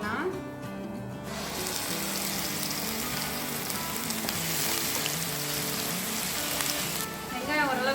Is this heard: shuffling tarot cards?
no